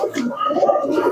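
A male Kaldoma pigeon coos in a short, close run of soft, throaty, rolling calls.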